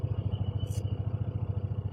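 Motorcycles idle up close, ready to ride during a monsoon trip through Maharashtra, their engines throbbing in a steady, fast pulsing rhythm with no talk over them.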